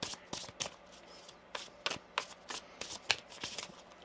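A deck of tarot cards is shuffled by hand in quick, crisp riffling bursts, several short flurries in a quiet room with no voice.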